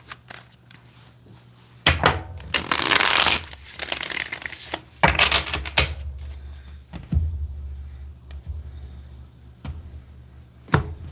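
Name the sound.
shuffling a deck of tarot cards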